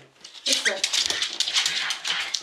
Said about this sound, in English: Already we've got a dog who's pretty hyper, pretty excited.